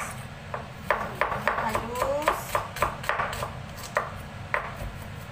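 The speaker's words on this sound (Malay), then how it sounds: "Bawang merah, dipotong halus." Shallots being finely chopped by knife on a board, a steady run of about a dozen sharp chopping knocks at close range over a faint background hum.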